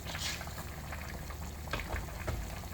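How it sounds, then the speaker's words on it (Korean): A pot of beef yukgaejang soup bubbles at a hard, steady boil, with soft continuous burbling and scattered small pops heard close up. "30분 정도 이렇게 이제 팔팔 끓였거든요"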